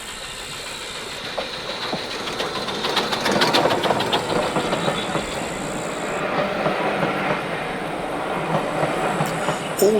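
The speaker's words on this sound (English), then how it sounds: "British Rail Standard Tank Class 4MT heads south on its way back to Horsted Keynes and then on to Sheffield Park" A British Rail Standard Class 4MT steam tank locomotive passes on a heritage line, its wheels clattering over rail joints and its engine rumbling close by, building in the middle and then running on steadily with a few sharp metallic clanks.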